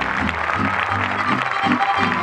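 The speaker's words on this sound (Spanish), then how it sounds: "El aplauso." A crowd applauds at a gaucho festival ceremony in General Juan Madariaga where a flower queen is elected. The steady clapping runs under a booming announcer's voice on a loudspeaker.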